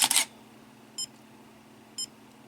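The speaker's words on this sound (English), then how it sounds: "when you're out there doing a long exposure and you forget to turn off this beeping noise" Two short, high electronic beeps from a Viltrox MC-C1 intervalometer timer remote sound exactly one second apart, quiet and close, following a brief loud rustle at the start.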